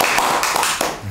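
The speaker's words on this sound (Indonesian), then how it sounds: "tepuk tangan semua" Hands clapping in applause at the start of an Indonesian hobby podcast about keeping platy fish, a dense burst of claps filling just over a second before tapering off.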